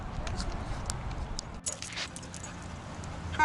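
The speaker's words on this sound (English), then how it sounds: "That's one fast dog." A dog dashes off across an open park in a small North Florida town, its quick footfalls and panting close and fairly loud, with a person talking nearby.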